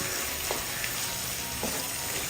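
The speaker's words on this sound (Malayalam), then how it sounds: "ഒരു 30 സെക്കൻഡ് ഒന്ന് ഇളക്കി കൊടുക്കാം" Small onions fry in a pan with a steady close-up sizzling hiss, and a couple of soft scraping stir strokes break through.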